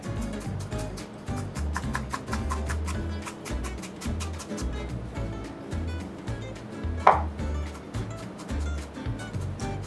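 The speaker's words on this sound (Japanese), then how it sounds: "なるべく手数の少ない包丁でみじん切りしていただければいいかなと思います" A knife mincing shallot finely on a cutting board, a fast steady run of faint, crisp taps close by with no talk over it.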